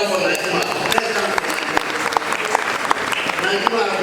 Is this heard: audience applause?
yes